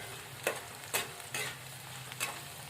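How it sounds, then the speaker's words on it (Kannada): Curry leaves and onion frying in hot oil for sabudana phalahar, a steady sizzle broken by four sharp stirring scrapes at regular intervals, close up. "ಇವಾಗ ನಾನು ಇದಕ್ಕೊಂದು ಸ್ವಲ್ಪ ಕಡಿಪತ್ತ ಹಾಕೋತೀನಿ ರೀ"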